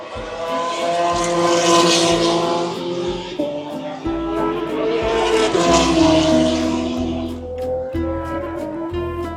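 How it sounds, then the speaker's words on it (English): Formula 3 race cars scream past the Imola circuit, loud engine notes rising and falling as several cars pass in succession, with crowd noise beneath. "Formula 3 cars are out now, and we found another spot."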